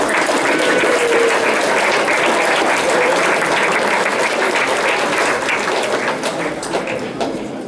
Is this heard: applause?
yes